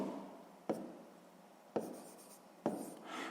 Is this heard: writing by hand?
yes